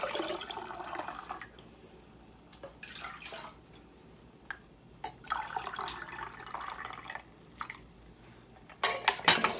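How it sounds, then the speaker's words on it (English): A spoon clanks and scrapes inside a pot while pork broth stock is stirred during pressure canning, giving irregular close metallic knocks and sloshing at a fairly low level, with brief louder clatter near the end. "Let's give it a stir."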